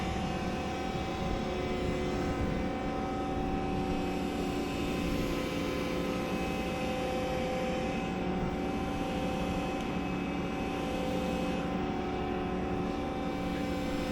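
A Volvo EC60E excavator fitted with a Fecon FMX36 mulcher runs at full throttle, a steady loud engine and hydraulic drone with a constant tonal whine holding unchanged throughout, no talking.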